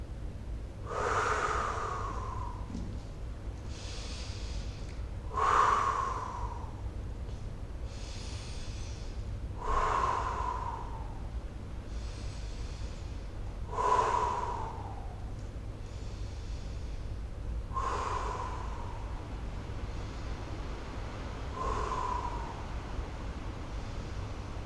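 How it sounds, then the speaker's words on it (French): Slow, regular exhaled breaths during a gentle gym relaxation exercise, about six soft breathy puffs spaced roughly four seconds apart, close and alone over a low steady background hum. "Par contre, expirer, on ne le fait jamais assez."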